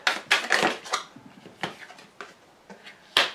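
A tarot card deck is cut and shuffled by hand, producing a run of crisp papery riffles and slaps in uneven bursts, close and moderately loud, with no talking.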